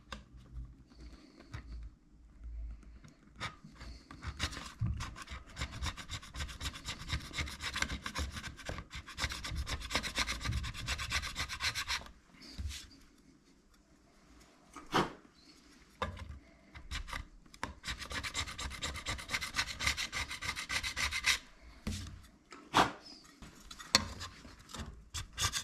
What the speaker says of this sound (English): I'm going to be using the metal scraper to remove the excess of the Ptex